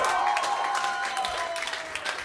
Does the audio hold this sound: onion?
no